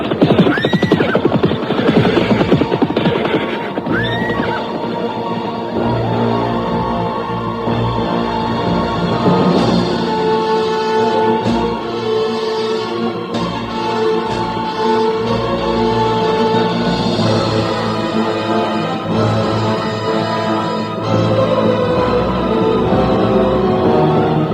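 Horses neigh and whinny over clip-clop hooves during a ride in an Indonesian period drama, set in a dense, loud soundtrack with music, repeated high calls and steady movement throughout.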